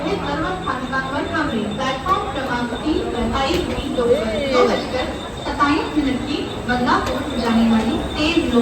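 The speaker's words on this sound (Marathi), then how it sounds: "ट्रेन आली आहे" A Mumbai local train pulls into a crowded station near Dombivli, a steady rumble of carriages beneath loud, continuous chatter and voices of passengers on the platform.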